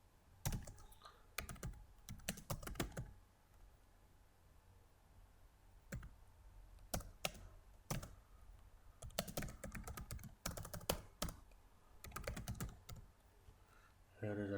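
Computer keyboard typing while adding text in CorelDraw X8, delivered in several short bursts of quick, close clicking keystrokes separated by pauses, with no speech.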